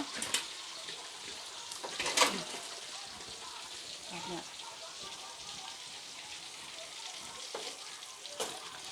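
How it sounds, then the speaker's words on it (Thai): Sun-dried beef frying in hot oil, a steady soft crackling sizzle with occasional louder pops, moderately faint and continuous, with a voice speaking at times. "ทอดเนื้อให้สุกก่อนนะทุกคนนะ"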